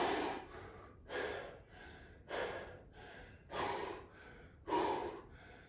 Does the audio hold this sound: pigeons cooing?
no